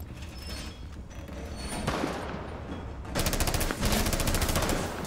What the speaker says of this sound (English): There's a Meister turret here.